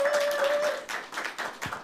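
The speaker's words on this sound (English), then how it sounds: "Give a round of applause for Ben." An audience applauds at a talk on unbelief in Jesus, a brief, moderately quiet patter of clapping that swells and dips in short waves, with a steady tone running underneath at first.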